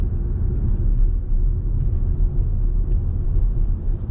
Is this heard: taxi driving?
yes